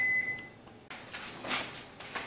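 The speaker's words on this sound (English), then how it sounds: "My timer is going off." A kitchen timer beeps loudly at a steady high pitch in a home kitchen during marmalade canning, then cuts off into clattering kitchen noise and handling.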